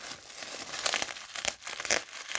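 A plastic parcel is torn open by hand, giving close, crackly bursts of crinkling and ripping plastic in an irregular rhythm.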